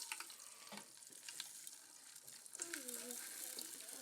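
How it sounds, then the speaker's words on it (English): Pop Rocks candy is poured into Coke in a group experiment. The result is a faint crackling fizz with scattered pops and hissing bubbles, and voices murmur softly underneath. "Our next group is Pop Rocks versus Coke."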